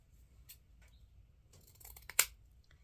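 Scissors cutting wreath ribbon at an angle, a few short faint snips building to one sharper crisp cut near the end, close and quiet with no talking.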